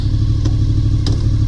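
A 1991 Honda VFR750F with gear-driven cams runs loud and close, a steady mid-pitched engine tone with two faint clicks, captured as the bike starts to move off.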